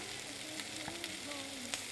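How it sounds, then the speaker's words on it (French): Vegetables sautéing in a cooking pan, a steady close sizzle and crackle of frying with faint stirring scrapes and clicks, no voices. "j'ai fait sauter mes légumes séparément"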